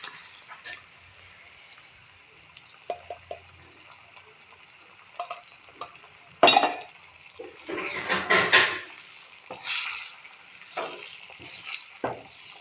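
Eggs dropped into tomato curry in a pan, with soft sizzling and scattered utensil clinks and scrapes, including a louder clatter midway, close and steady throughout.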